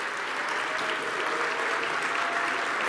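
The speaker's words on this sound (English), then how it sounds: "let's give a round of applause to all the people, all the ladies that are with us here today" Sustained audience applause fills a hall at the 2023 GMBA Awards, a dense, even wash of clapping that holds steady at full strength from start to end, with no voices standing out.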